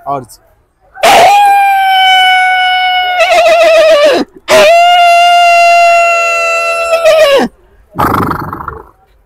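A man mimics a horse neighing, giving two loud, close whinnies with shaky, quavering pitch, each followed by a breathy snort, with short pauses between them.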